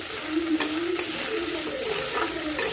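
Green lentils (kalai) frying in hot oil, a dense continuous sizzle up close with light stirring scrapes and a few soft taps of the spoon; no talking.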